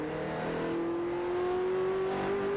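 Onboard sound of Kane Scott's NZV8 race car at Manfeild, a loud steady engine drone with a single tone slowly rising in pitch, the car seemingly lacking acceleration.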